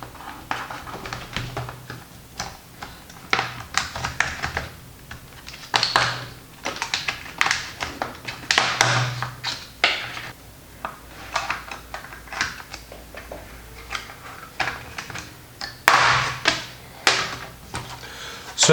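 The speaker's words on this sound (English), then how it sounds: "then we'll pick through all the sides and click it open" A Samsung Galaxy Book Flex Alpha laptop's back cover is pried around its edges and clicked open, giving a series of close, irregular plastic clicks and snaps with brief pauses between them.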